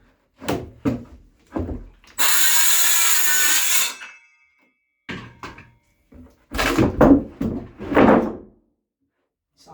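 Handsaw cutting through 40 mm plywood in a home workshop, a harsh rasping burst of about two seconds, separate from scattered bumps and clatter of handling wood before and after.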